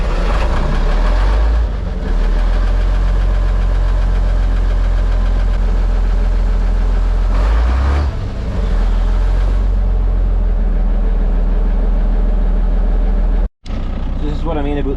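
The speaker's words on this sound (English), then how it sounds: "I'm going to point you there, right at the exhaust, for a nice cold start" Classic Volvo F7 lorry diesel engine cold-starting and idling, a loud, steady low rumble heard close at the exhaust, with brief dips and a short dropout near the end.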